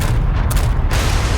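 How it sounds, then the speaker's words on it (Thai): A loud, sustained explosion as an island blows up in the Resident Evil 4 Remake video game: a dense, deep rumbling boom filling the whole moment with a brief brighter burst partway through. "เกาะระเบิด"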